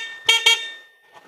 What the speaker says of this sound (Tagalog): Tapos ito po yung pinaka-busina niya